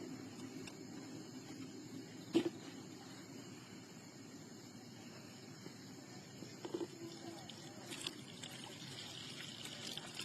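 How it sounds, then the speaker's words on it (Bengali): Date palm sap, collected late on a winter night, is strained through a cloth and poured, giving a faint continuous trickle with a couple of soft knocks of the vessel. "রসটা এখন জাকের ভিতর দিয়ে রসটা ছেঁকে নেবো।"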